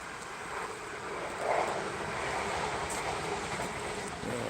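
A train passes at a distance, a steady, low rumbling roar holding evenly for a few seconds with no one talking.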